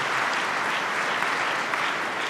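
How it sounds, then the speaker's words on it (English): An audience at a National Religious Broadcasters convention applauds: steady, dense clapping from a large crowd fills the whole stretch at an even level, with no talk over it. "please give yourselves a round of applause"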